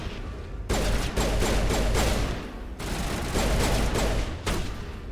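Sustained gunfire against Krogan enemies in Mass Effect: Legendary Edition comes as loud, dense bursts of rapid shots with brief pauses between volleys, close and steady.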